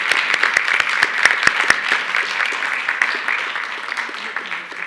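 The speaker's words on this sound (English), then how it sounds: "Let's give them a round of applause." An audience claps at a junior high spelling bee in Merced County, a dense indoor round of applause with a few sharper individual claps early, then tapering off gradually.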